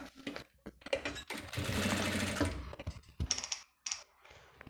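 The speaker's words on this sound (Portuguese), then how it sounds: "vou começar a fazer minha costura em cima dessa costura aqui" A sewing machine stitches with a wide stitch over an existing seam on plastic for a toiletry case, making a close, steady mechanical whir of about a second and a half, with short bursts and clicks on either side.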